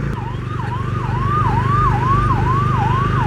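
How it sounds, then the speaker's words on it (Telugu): An ambulance siren wails in city traffic at a busy circle in Kurnool, rising and falling in a steady repeating cycle, loud and close over a low traffic rumble, with no talking. "అంబులెన్స్."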